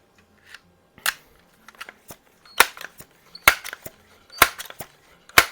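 A Crosman Power Master 66 air gun is pumped and fired, giving sharp, close cracks and clacks at irregular intervals with quieter mechanical clicks between them.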